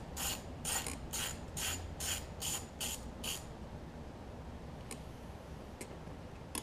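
A ratchet wrench loosens 10 mm bolts on a Kohler Courage engine of a Troy-Bilt Horse riding mower. About eight quick, crisp clicks come in an even rhythm up close, followed by a few sparse single ticks.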